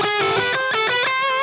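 Distorted electric guitar runs a fast shred scale pattern with repeated three-note groupings, sustained saturated notes moving steadily upward, played solo with no talking.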